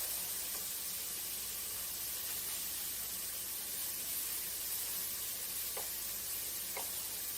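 Chicken stir-fry fries in a pan with a steady, dense sizzle that fills the whole stretch, broken by a few faint clicks and no talk.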